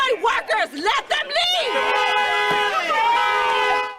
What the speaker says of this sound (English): people filmed them and started shouting in their faces